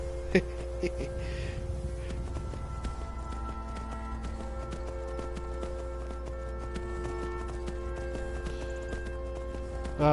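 Rhythmic hoofbeats clop steadily over a constant electronic hum, a galloping horse in modded Skyrim Special Edition on PS4, with synthetic, game-like tones layered on top.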